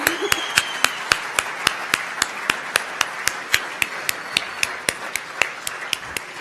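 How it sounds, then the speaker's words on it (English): One person claps alone in a slow, even rhythm, about three sharp claps per second, loud and close, with faint room murmur beneath, in an audience greeting a guest chef at a culinary conference. "And a big round of applause."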